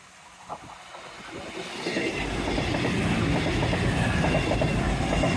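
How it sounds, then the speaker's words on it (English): A train passes along the Dawlish seawall by the sea, its rumble and wheel clatter building from faint to a loud, steady roar that holds to the end, with no talking. "Train number 5,"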